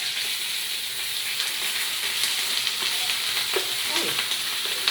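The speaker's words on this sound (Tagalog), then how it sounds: "Kunya nagdugang lang ko gamay nga oil sa akong kalaha. Gibutang na nato ang rice guys." Leftover rice fries in a little oil in a wok for fried rice, making a steady bright sizzle with soft stirring scrapes, close and continuous with no talk.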